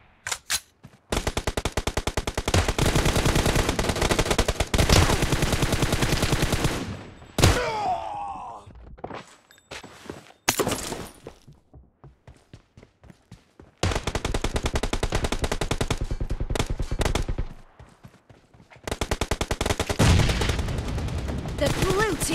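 Sustained automatic gunfire in a PUBG team deathmatch, long loud bursts of rapid shots broken by short pauses, single cracks and thuds, with faint game voice cues mixed in.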